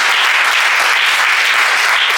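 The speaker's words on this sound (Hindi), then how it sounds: "तो स्वागत करें जरा जोरदार तालियों से" Dense applause from a crowd at an Ashwagandha campaign event, a steady wash of many hands clapping at once, loud and sustained without letup.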